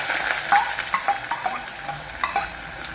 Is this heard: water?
no